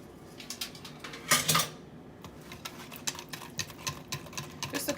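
Sesame oil and chicken marinade being stirred in a bowl at home: a string of light clinks and scrapes of a utensil against the bowl, with a brief louder clatter early on, then steady quiet tapping.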